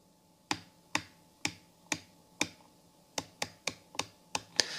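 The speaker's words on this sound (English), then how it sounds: "I'm gonna like pause like talking for a second so you can maybe hear those clicks." Turret adjustment clicks from a Meopta Optika6 1-6x24 rifle scope ring out as crisp, close single clicks, first five evenly spaced, then a faster run of six, each sharp against a quiet background.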